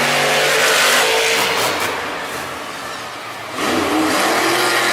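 Monster trucks roar through a close semifinal race at a Monster Jam arena show in Nashville, engines revving loudly and continuously with a brief dip in volume before surging back, crowd-filled arena ambience behind.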